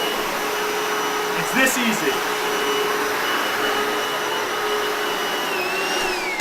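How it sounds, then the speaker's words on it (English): A vacuum cleaner picking up crumbs off the floor drones loudly and steadily throughout, and a voice speaks briefly over the motor. "The vacuum is made to suck the crumbs up off the ground."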